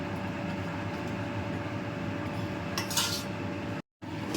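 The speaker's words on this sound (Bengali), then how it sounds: "আমি এবার ঢাকাটা খুললাম, খুলে দেখি পেঁপেগুলোর কী অবস্থা।" The lid comes off a pot of Bengali shukto with papaya simmering inside. A soft metallic clink and rattle rise briefly over a steady low kitchen hum.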